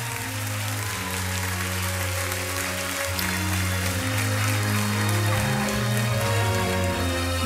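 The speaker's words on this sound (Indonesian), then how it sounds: "Kita berikan tepukan semangat untuk Ace." A studio audience on a Malaysian televised singing competition results show applauds, a dense, rain-like hiss of clapping laid over loud sustained music throughout.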